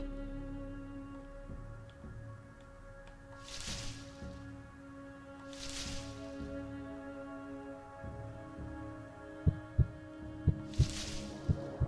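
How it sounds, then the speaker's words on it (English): Heartbeat sounds in the video game Paper Lily, slow muffled thumping pulses over a low ambient drone, with a few breathy swells and some sharper ticks near the end. "I hear some heartbeats."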